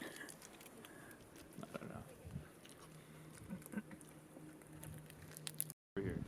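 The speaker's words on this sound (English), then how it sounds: "It started raining" Rain pattering steadily on a tent and tarp at a rainy campsite on the Panorama Ridge hike near Vancouver, faint and close, with voices talking over it.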